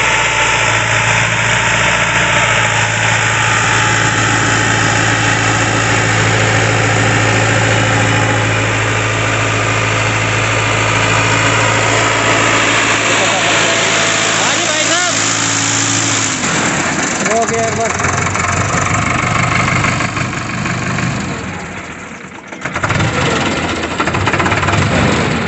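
A Sonalika 60 hp tractor idles in a field during millet sowing, giving a loud, steady engine drone for about sixteen seconds before its note shifts. Voices are heard over the engine.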